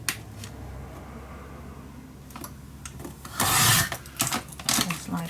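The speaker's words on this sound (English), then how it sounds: "Then you just need to cut down 1 piece." Paper is cut for a vintage winter mini album with scratchy slicing strokes, a few faint scrapes first, then a louder burst of rough cutting and several short bursts close by.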